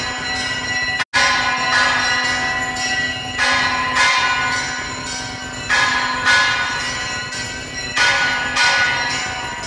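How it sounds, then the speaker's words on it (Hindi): Temple aarti for Chaitra Navratri to Mata Pitambara: loud, close bells ring continuously, swelling in regular waves every couple of seconds alongside shimmering hand cymbals and conch, with no talking. "शंख करताल आवाज आपका सुना रहा हूँ भैया"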